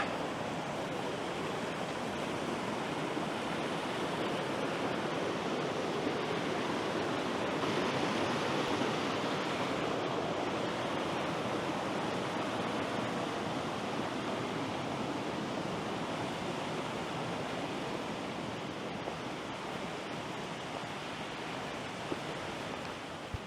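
Steady, dense rushing of flowing water, continuous and unchanging throughout, like a stream running close by with no voices.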